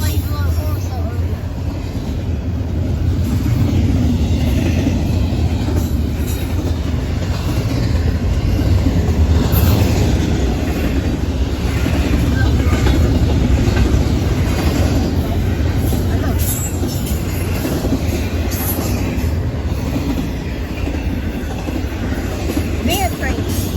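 A Norfolk Southern double-stack freight train rolls past with a long, loud, steady rumble and faint clickety-clack of wagons, continuous throughout with occasional talk over it.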